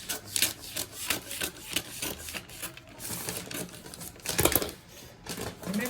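Scissors cutting through fabric for the side panel of a padded bustier princess-dart blouse, heard as a run of soft rasping snips and rubbing strokes, close and moderately loud, with no talking.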